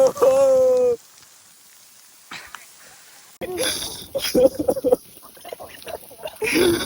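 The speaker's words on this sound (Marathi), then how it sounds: "एकच झुळूक आली पावसाची सगळं भिजून गेलं" A voice sounds briefly, then near silence, before a sudden gust of rain rushes in as a loud broadband patter, with voices underneath.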